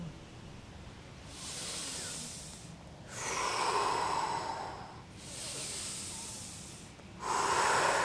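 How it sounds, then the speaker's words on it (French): Slow, deep breathing during a guided exercise, with long, loud inhales and exhales that rise and fall like ocean waves, four breaths in a quiet room. "écoute bien ma respiration, c'est ça ce qu'on fera ensemble"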